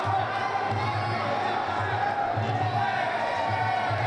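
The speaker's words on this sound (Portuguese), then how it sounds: "A torcida gostou." A crowd at a Muay Thai fight between Gabriel Ramos and Rogério Pinheiro murmurs and cheers steadily as a distant mass, with a voice talking over it.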